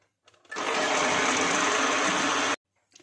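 Guava and mango blended with packaged cream as an ice cream mixture, the grinder starting up and running steadily loud for about two seconds before cutting off abruptly.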